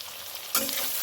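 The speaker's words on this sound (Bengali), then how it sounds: "আলুটা ভাজা হবে" Potatoes hitting a hot pan to fry, a quiet hiss that swells abruptly halfway through into a loud, bright, steady sizzle, with no voices.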